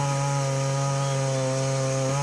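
A chainsaw pruning tree branches runs at a steady, loud engine drone with a strong buzzing tone throughout, dipping briefly near the end.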